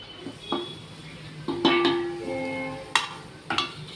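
Coconut powder frying in hot ghee and being stirred in a pan, quiet scraping and clinks of a utensil against the pan in a few separate strokes with a soft sizzle underneath.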